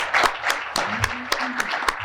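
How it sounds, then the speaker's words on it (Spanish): A conference audience claps in a modest, steady applause, with individual sharp claps standing out at regular intervals over a softer background patter, moderately near and without voices on top. "Y un aplauso"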